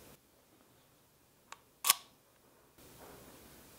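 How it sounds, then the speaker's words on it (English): Leica IIIa camera with a cloth focal-plane shutter firing, a faint brief click followed by one sharp, louder mechanical snap, held close in an otherwise quiet room. "I just haven't heard a shutter like that. That's that like the fabric curtain going across. It's all those gears moving."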